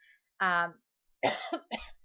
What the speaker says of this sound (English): I was trying to hold in a cough